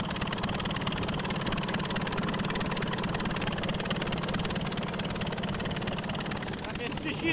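A Skoda DK661 tractor engine idles steadily and close by, with a constant low rumble that holds at the same level throughout. Voices talk over it.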